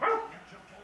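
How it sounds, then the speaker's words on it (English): A single sharp bark from a dog reacting to a bag blowing in the wind outside, moderately close and quickly fading. "She's currently barking at a bag outside that's blowing in the wind"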